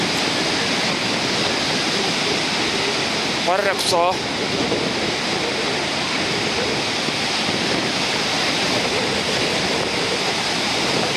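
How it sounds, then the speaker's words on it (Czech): Rough, storm-churned sea at Rimini, Italy, after a night storm, a dense continuous roar of breaking surf close by. A brief chirp cuts through near the middle. "teď se podíváme do toho rozbouřené moře, po noční bouřce"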